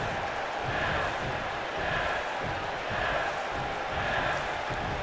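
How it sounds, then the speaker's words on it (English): A wrestling crowd chants in a steady rhythmic pulse, roughly one beat a second, rising and falling in a broad wash of distant voices filling an arena. "Crowd chanting yes here."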